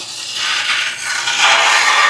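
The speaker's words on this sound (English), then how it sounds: "I'm just going to take this razor blade and I'm just going to scrape the gunk." A razor blade scrapes built-up gunk off an aquarium lid, giving a steady, close, harsh rasping scrape that swells in strokes and grows louder toward the end, with no talking.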